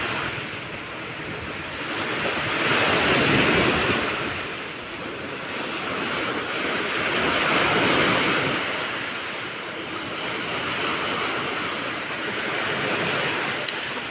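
Sea waves roll onto a shore in slow, swelling surges, each rising and receding over several seconds, with steady wind noise buffeting the microphone and no voices.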